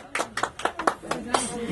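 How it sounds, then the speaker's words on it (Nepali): Applause at a Nepali honour ceremony, quick rhythmic claps in a steady run of about seven sharp strikes, close and fairly loud. "पूजन थापाज्यू, तालीलाई कन्डिसन नगरिदिनु होला।"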